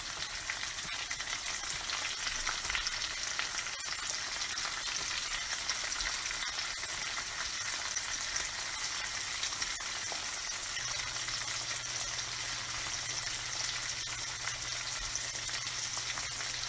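Shrimp for shrimp scampi sizzle loudly and continuously in a hot pan, a dense, even crackle that holds for the whole stretch while a low hum joins partway through, with no voices.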